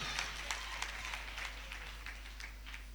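A church congregation applauds in praise, a steady wash of many hands clapping with rhythmic accents, moderately loud and slightly distant, against a low hum.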